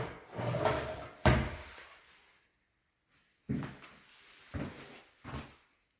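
Vanity cabinet drawers in a bathroom fitted with granite tops, opening and closing in a few separate wooden knocks and slides, fairly close, with quiet gaps between them.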